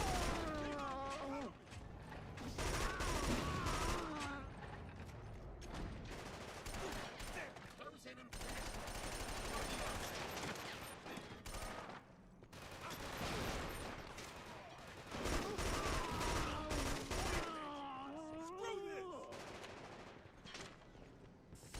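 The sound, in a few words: LMG machine gun fire in video game Killzone 2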